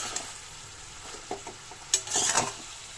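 Food frying gently in a pan on the stove, a faint soft sizzle under light stirring and a few small scrapes and clinks of a utensil, quiet and close.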